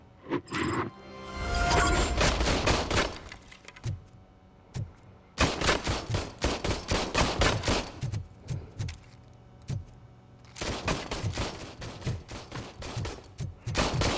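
Gunfire in the video game Robocop Rogue City, loud sharp bursts of rapid shots in several volleys separated by brief pauses, close and dominant with no talk.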